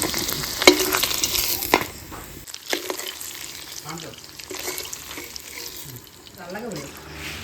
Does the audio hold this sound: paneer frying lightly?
yes